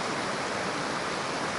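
Steady broadband rush of a stream flowing outdoors during a calm, breezy photo session, continuous and even throughout with no voices.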